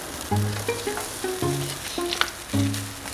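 Meat sears on a grill over a campfire at an outdoor barbecue, a close crackling sizzle that swells in short bursts, with faint tonal sounds in the background.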